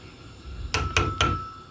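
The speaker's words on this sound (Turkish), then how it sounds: "Bu aşamadan sonra şöyle karıştıralım." Metal spoon stirring boiled milk in a pot for yogurt, giving three sharp, close clanks against the pot at roughly quarter-second spacing over a quiet background.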